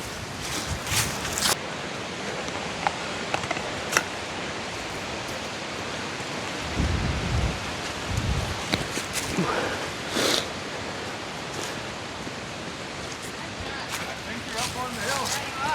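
Strong wind buffeting a microphone on an outdoor disc golf course, a continuous roaring rush with heavy low gusts, while a voice is heard talking at times.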